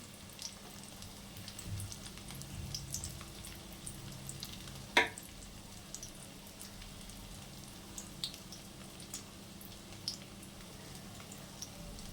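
Faint, steady sizzling of fish roe fritters frying in oil, with a few soft ticks and one brief clink midway.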